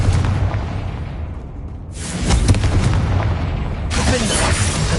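A Confringo fire spell explosion in Hogwarts Legacy on PS5, a loud booming blast with a crackling burst that fades, then another heavy impact follows, with faint voices beneath.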